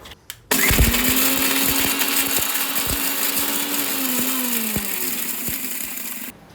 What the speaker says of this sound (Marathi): चला आता हे मिक्सरचे आपण ही बघा अशी दरदरीत कुट करून घेतले